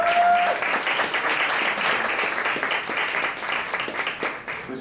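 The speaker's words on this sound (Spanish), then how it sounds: "así que de verdad un aplauso para ellos" Applause for the jazz musicians Charlie and Jacobo at a jam session, a steady, fairly loud wash of many hands clapping that gradually thins toward the end.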